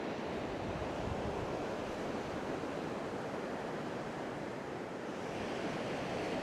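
Waves wash steadily onto a flat beach at Cambois, a continuous broadband surf roar mixed with wind buffeting the microphone, with no talking.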